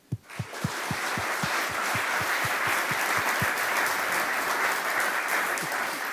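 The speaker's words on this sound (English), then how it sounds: "can we please give a big round of applause for Sebastian as he comes to the stage?" Audience at a TEDx talk in Twente applauds as a speaker comes to the stage, starting with a few sharp individual claps that swell within a second into steady, dense clapping that holds at full strength to the end.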